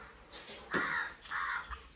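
Two harsh crow caws in quick succession, fairly close, over a quiet background hum.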